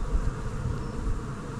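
Honeybees buzz around an opened hive during a Taranov swarm-prevention split, a dense, steady drone of many wings close by, continuous with no speech.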